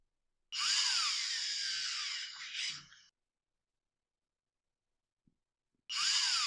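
Screws are driven into the brake band of a Husqvarna chainsaw with a power drill: a loud, high whine lasting about two and a half seconds, then silence, then the whine starts again briefly at the end.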